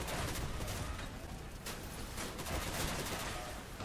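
Rapid autocannon fire in the Crossout vehicle combat game rattles in a dense, continuous barrage, loud and close throughout with no pauses.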